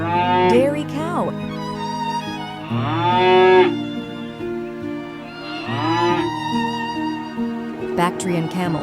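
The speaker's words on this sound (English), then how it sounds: "Dairy cow." A dairy cow moos loudly and repeatedly, giving four long, drawn-out lowing calls that rise and fall, close by, with a constant low background.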